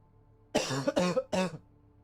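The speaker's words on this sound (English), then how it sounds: "Fucking coughing, man." Three quick, harsh coughs close to the microphone in a quiet room, each burst short and forceful with a brief gap between them.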